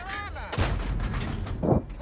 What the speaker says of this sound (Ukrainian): по ньому дуже стріляє агресивно в цей момент артилерія